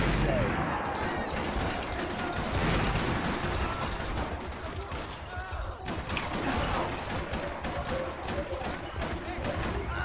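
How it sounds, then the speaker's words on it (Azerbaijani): Gunfire from the video game Max Payne 3 rattles in rapid bursts and single shots, loud and continuous throughout, mixed with game sound effects. "Qardaşa nə qədər güllə vurdum ha"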